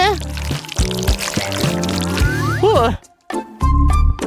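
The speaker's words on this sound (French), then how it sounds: "Et j'arrose dessus." Liquid poured over food on a plate during a kids' food challenge, a brief splashing pour heard under steady, lively talk from several people.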